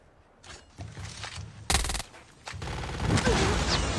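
AK-47 bursts in the mobile shooter Call of Duty Mobile during a battle royale tournament, short rapid volleys of gunfire building to louder sustained firing.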